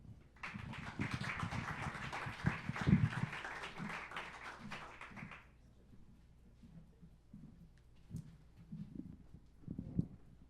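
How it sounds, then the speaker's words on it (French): Audience at a French talk on exercise science and heat limits applauds a presenter: dense steady clapping for about five seconds, then fading into scattered claps and low murmur. "Vous pouvez l'applaudir, s'il vous plaît"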